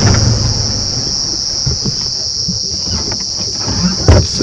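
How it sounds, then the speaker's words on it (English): Cicadas calling in the bush at Djuma Game Reserve, a dense, steady high-pitched drone running throughout over low rumbling from a safari vehicle and some background noise. "listen to all the cicadas"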